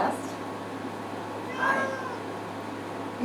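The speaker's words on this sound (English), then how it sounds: "We have a cat boarder in here at the moment who's not real happy" An unhappy boarding cat meowing from a kennel room, a drawn-out, wavering cry midway through over a steady background hum, moderately close.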